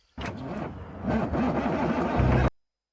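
A tractor engine in a truck video game revs and drones steadily, rising in pitch with a wavering tone, loud and close, then cuts off abruptly.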